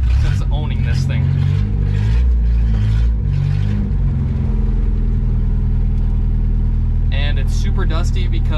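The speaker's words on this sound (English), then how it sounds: "Time this truck has ever moved under its own power since owning this thing." A 1967 Datsun 520 pickup truck runs open on its headers and rolls forward, a loud, rough low engine drone with rising revs throughout, close by, with people talking over it at the start and end.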